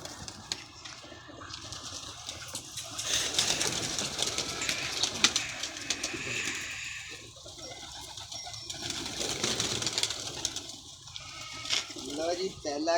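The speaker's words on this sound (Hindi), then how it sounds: "लो जी, पहला कबूतर सलारा" Salara pigeons coo softly amid a busy backdrop of other birds and rustling, with low murmured voices now and then and a few louder bursts of noise.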